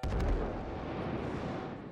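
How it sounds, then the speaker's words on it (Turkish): A police car explodes in the video game GTA 5 with a deep boom at the start, then trails off into a low rumbling roar that fades gradually. "Lan bizim ekip arabası mı patladı?"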